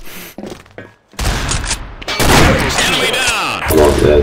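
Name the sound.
gunfire in the video game Combat Arms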